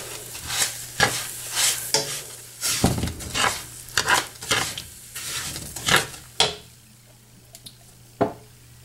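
Jaggery and brown sugar stirred in a pan for nut chikki, heard as a series of separate scraping, sizzling strokes, close and moderately loud, spaced about a second apart and thinning out toward the end.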